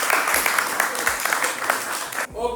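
A studio audience at a young singles speed-dating show claps loudly and densely for about two seconds, then breaks off abruptly as a voice begins.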